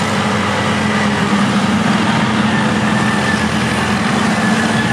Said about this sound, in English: So a very unusual tractor,